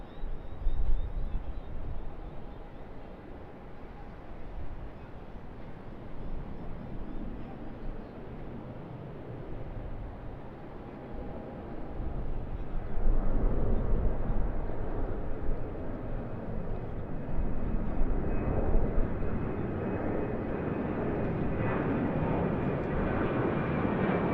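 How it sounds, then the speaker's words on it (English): A British Airways Boeing 787-9 roars down runway 34 right at Sydney Airport on takeoff, its jet engines a broad, steady rumble that swells and holds loud as the aircraft passes. "British Airways Boeing 787-9 as well. Grab this takeoff off of runway 34 right though."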